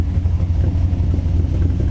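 A 1961 Corvette resto-mod's engine runs close and loud in a steady, throbbing low rumble with a slight pulsing rhythm.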